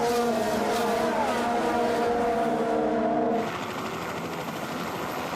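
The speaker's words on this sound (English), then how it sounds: "There goes the Toro Rosso of Danny Kvyat at the top of the hill" Formula 1 cars at the 2017 Bahrain Grand Prix race past in a loud, high-pitched engine roar with several overlapping tones; the sound cuts to a steadier, thinner engine drone partway through.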